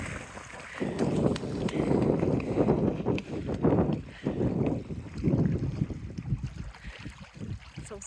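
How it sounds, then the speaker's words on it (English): Swans running across the water to take off: rapid rhythmic splashing and slapping in bursts of pattering strides, with gusty wind noise over the microphone. "It's a brilliant sound hearing them running on the water."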